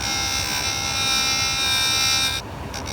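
An emerald being ground on a Jooltool polishing machine gives a steady, close, high-pitched motor whine that cuts off near the end and leaves a quieter hum. No one speaks.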